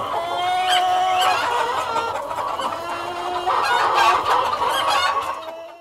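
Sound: inside a typical meat factory

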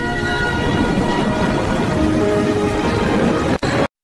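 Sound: train arriving and departing in an AI-generated video

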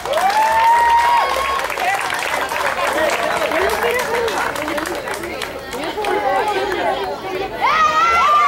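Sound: crowd applause at sports event

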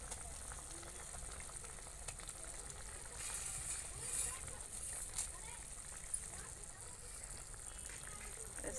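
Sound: spiced water boiling with Maggi noodles added

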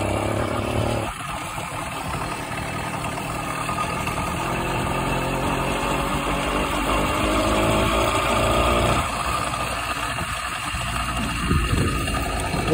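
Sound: motorized tandem bicycle engine running after bump start

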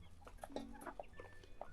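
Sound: young Bielefelder chicks

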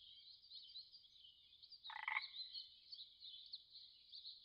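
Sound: Darwin's frog calling

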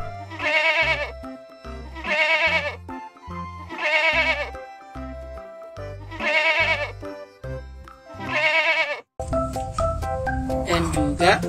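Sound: goat bleating in a video game

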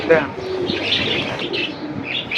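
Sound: pigeons cooing

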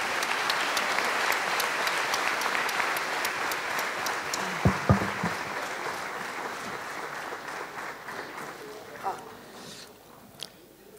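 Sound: thunderous audience applause

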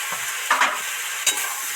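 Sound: marinated small river crabs stirred in pan with water

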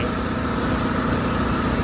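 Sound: car engine idling smoothly

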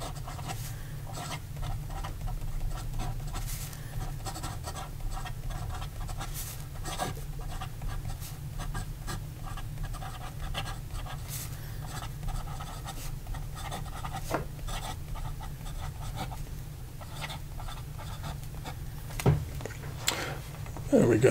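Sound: Visconti Millionaire fountain pen palladium nib writing on paper

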